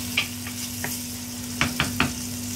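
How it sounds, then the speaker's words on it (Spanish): Garlic frying in olive oil for a chicken-and-rice sofrito gives a steady soft sizzle, with a few sharp utensil clicks and scrapes against the pan near the end. Nobody speaks. "Y el ajito. En el mismo aceite. Que se vaya haciendo."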